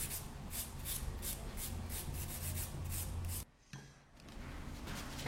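A nail file rubs back and forth over a broken fingernail to reshape it, giving a steady series of soft rasping strokes up close, broken by a brief pause before the filing resumes.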